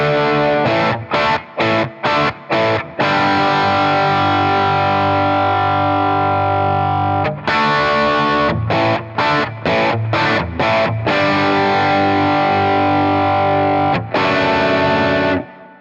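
Electric guitar played through a Boss Katana amp on its 0.5 watt setting, heavily distorted, loud chords with repeated short stabs and sustained ringing notes, played alone.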